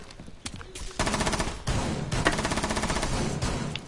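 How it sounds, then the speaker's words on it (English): Gunfire in a video game: loud, dense bursts of rapid automatic shots crackle almost continuously, with a brief lull near the start and another toward the end. "What are you guys shooting at?"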